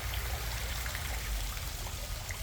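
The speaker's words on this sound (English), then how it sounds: "A bit of water coming through that gate there." Water trickles steadily through a lock gate on a steep canal lock flight near Marple, a constant soft, close rushing with no speech over it.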